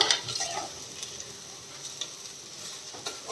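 Curry with curry leaves fries in hot oil while being stirred, a constant close sizzle with scraping strokes of the spoon and small pops, steady and alone without voices.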